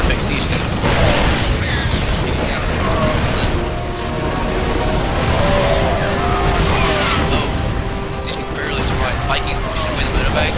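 Booming siege tank blasts rumble through a Terran versus Terran StarCraft 2 match on Moondance, with low thuds and crackles under continuous excited commentary.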